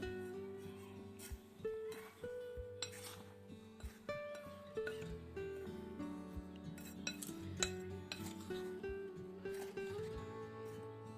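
Semolina, sugar and salt being stirred together in a bowl, with repeated light clinks and scrapes of a spoon against the dish under a faint tonal background, close and fairly quiet.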